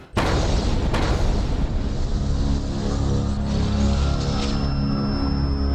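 A sudden, heavy bomb explosion in Old Delhi in a TV crime drama erupts and rolls on as a long, loud, rumbling roar that slowly settles without fading away.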